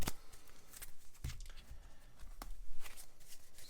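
Board game cards from Legendary Encounters Alien being shuffled back into a deck during a solo tabletop session, soft close riffling and sliding with several distinct snaps, quiet and alone.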